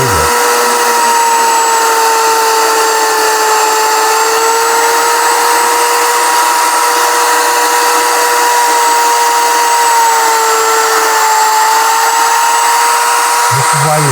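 A power saw cuts wood for a handmade keepsake box, giving a steady, loud, high-pitched whine that holds nearly unchanged for about fourteen seconds.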